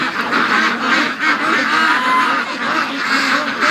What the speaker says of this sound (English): oh, look at this, a Muscovy